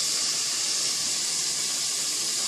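Butter or margarine melting in a pot for beef tenders, giving a steady, loud, close hiss of sizzling fat that runs unbroken throughout with no talking.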